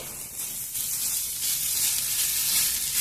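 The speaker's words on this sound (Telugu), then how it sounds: "కొద్దిసేపు వేయించుకున్నాం." Okra (ladies finger) frying in a pan with garlic chili powder, a continuous close sizzle and hiss that swells slightly as it goes, with no talk.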